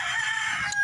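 A rooster crows close by in a farmyard: one sustained, brassy cock-a-doodle-doo that fills the short moment and cuts off sharply at the end.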